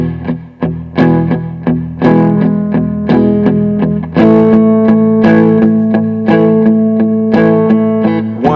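Distorted electric guitar strummed in steady eighth-note triplets for a blues shuffle lesson, loud, thick chords ringing with effects and reverb, no talking.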